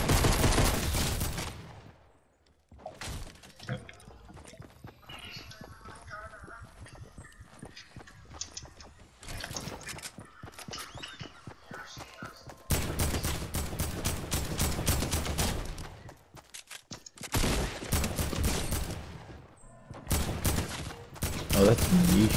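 Fortnite video game gunfire comes in repeated rapid bursts of shots, loud and close, separated by quieter stretches with scattered in-game sounds.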